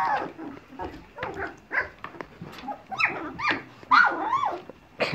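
Several 2.5-week-old puppies yelp, squeal and whine in overlapping high-pitched bursts, close by and insistent, with no talking.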